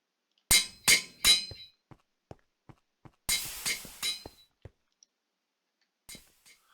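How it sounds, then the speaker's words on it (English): Forge hammer in the Minecraft GregTech New Horizons modpack pounding steel into plates: two bursts of three heavy metallic clanging strikes, with light single clicks between them, then a faint final clink. No talk. "let's put a stack of steel into the forge hammer. Turn it all into plates."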